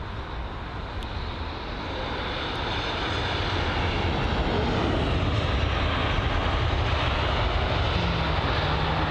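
British Airways Airbus A320 jet at London Heathrow, its engines a loud, continuous broadband roar that swells gradually and holds steady close by.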